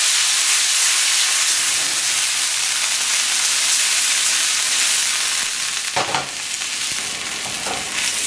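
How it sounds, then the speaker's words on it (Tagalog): Beef stir-frying in hot oil over high heat for stir-fried ginger beef, a loud, steady sizzle and hiss that spikes briefly with a burst of spattering, with no voices. "Dahil medyo basa yung ilalagay natin na beef at mainit yung mantika, malakas ang tendency nito na mag-splatter yung oil o matalsikan kayo."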